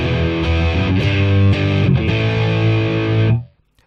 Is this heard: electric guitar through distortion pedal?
yes